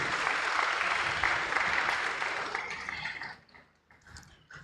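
Crowd at a Liberty Learning Center Class of 2025 graduation ceremony breaks into dense, loud applause that holds for about three seconds, then thins and fades into scattered claps.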